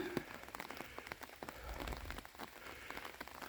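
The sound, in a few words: rain falling on a hiking trail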